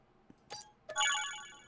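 A short Farming Simulator 25 purchase chime sounds after a couple of faint clicks, a bright ringing tone that rises quickly and fades out slowly, with no voices around it.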